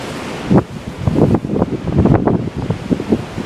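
Ocean waves wash against a rocky coast, with irregular bursts of surf and splashing under heavy wind buffeting on the microphone, loud and close throughout.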